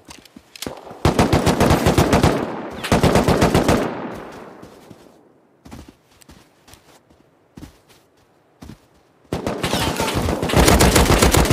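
Automatic gunfire in Rust, sharp rapid bursts of shots fired in close-range clusters, separated by a quieter gap of scattered single cracks and footsteps, then another long sustained burst at the end.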